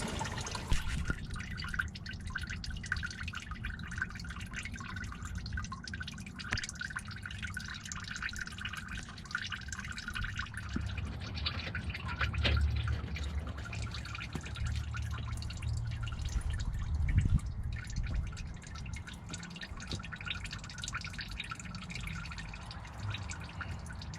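Coolant drips out of a 2006 Jeep Grand Cherokee radiator during a flush, a long run of small liquid drips over a quiet garage background.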